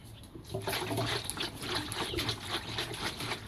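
Water sloshing and trickling inside the balance ring of a Samsung top loader washing machine during spin, a continuous wet rushing with rhythmic swishing pulses, fairly close and moderately loud.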